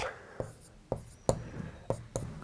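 Writing on a board during a maths lesson, heard as a few sharp, separate taps and short scraping strokes, fairly close, with soft talk faintly beneath them.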